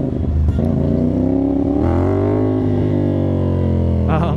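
A CFMOTO 450NK motorcycle with the catalytic converter removed and an SC Project exhaust, tuned, revs up close and loud, its raspy engine note climbing and holding high before easing off.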